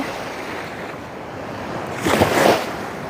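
Strong water flow at Rondiha dam near Durgapur rushes as a steady broadband roar with wind buffeting the microphone, swelling into a louder surge near the end; no voices.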